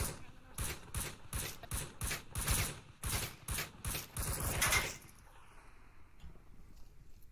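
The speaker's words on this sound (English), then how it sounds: "Well, some good suppressive fire." Bursts of light machine gun suppressive fire in the VR shooter Onward, loud rapid strings of shots in uneven clusters for about five seconds before cutting out into quiet background.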